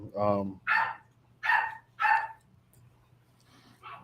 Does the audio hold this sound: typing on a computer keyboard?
no